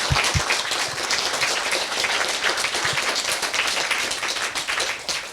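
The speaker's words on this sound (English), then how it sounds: "could we have a round of applause?" An audience at a Paris history book talk breaks into applause, a crowd of many hands clapping in a dense, continuous patter at moderate loudness that carries on evenly for over five seconds without talk.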